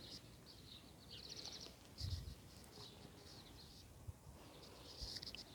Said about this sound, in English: You can probably hear some of the birds shouting